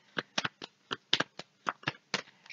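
A deck of cards is shuffled and drawn for a card reading. About a dozen quiet, crisp riffling and snapping bursts come in an uneven rhythm, close by.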